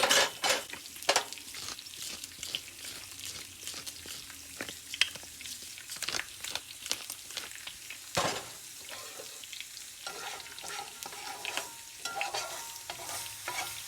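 Bacon sprinkled with steakhouse seasoning frying in a pan, a soft steady sizzle broken by frequent scrapes and clinks of a utensil against the pan as the strips are flipped, no voices.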